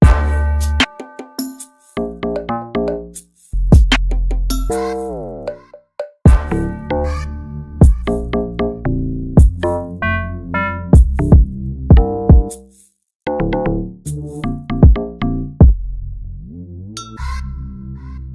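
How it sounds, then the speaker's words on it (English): Two layered lock drum sounds in an FL Studio beat, one pitched high and one low, hitting together in a loud, busy rhythmic pattern with deep low punches and sharp transients, no talking. "There's a lock drum, then there's a JB lock 2 source."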